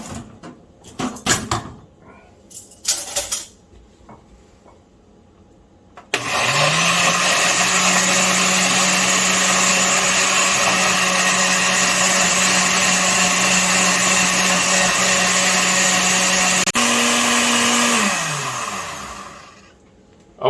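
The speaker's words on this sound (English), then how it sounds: "I'm going to put the achiote marinade in there and blend them together." After some brief clatter, a kitchen blender roars loudly and steadily for about ten seconds, blending achiote marinade with chiles, dips in tone briefly near the end and then winds down to silence.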